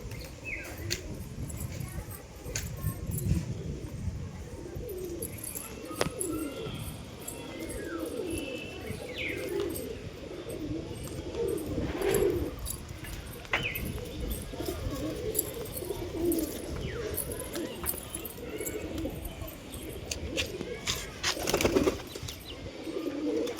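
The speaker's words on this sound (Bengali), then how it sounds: "খুবই ভালো ভালো কোয়ালিটির কবুতর, বাচ্চা কবুতর।" Young pigeons on a farm coo in soft, repeated low calls, with occasional wing flutters and chirps, mixed into a busy nearby background.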